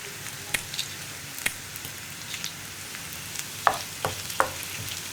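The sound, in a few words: dried red chillies frying in pan with onion and coconut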